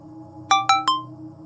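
Three quick bright chimes of a phone notification for a new delivery order, evenly spaced and ringing clearly over a faint background hum.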